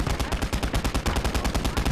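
Rapid gunfire in a WWII video game battle, with a heavy anti-tank rifle among small arms, a dense run of sharp, closely spaced shots that keeps up without pause, loud and near.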